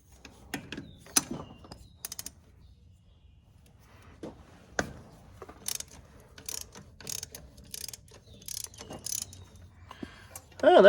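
A 3/4 inch socket on a ratchet clicks while working on the starter of an Allis-Chalmers 8070 tractor, sparse close ticks and clanks with short ratcheting runs and faint handling noise, someone speaking briefly.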